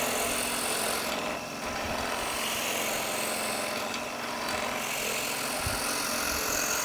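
A wood lathe turns a blank into chopsticks: a steady, continuous rasping scrape of a tool against the spinning wood, with slight shifts in pressure and no talking.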